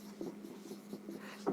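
Marker or chalk writing on a board during a chemistry lesson, a series of short, scratchy strokes with small pauses in between. Quiet and close, with no speech.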